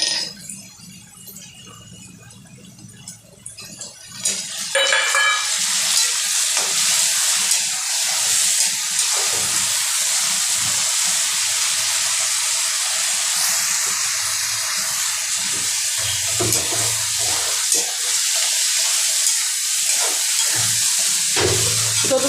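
Tomatoes dropped into a hot pan of peas for Maharashtrian upma: after a quiet opening a loud hissing sizzle bursts in and carries on steadily while being stirred, close and strong to the end.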